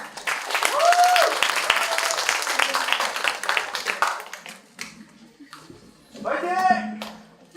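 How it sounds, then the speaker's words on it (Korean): Applause from an audience at a blockchain tech meet-up in Seoul fills the opening seconds, mixed with crowd chatter, then tapers off as a voice speaks over a microphone. "큰 박수 부탁드립니다"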